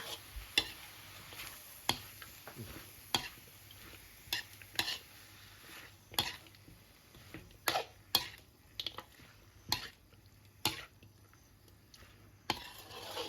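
Chicken stir-fried with curry paste and pickled bamboo shoots in a pan, a spatula scraping and clanking in a steady rhythm of sharp strokes over a faint sizzle, close and moderately loud with no talking.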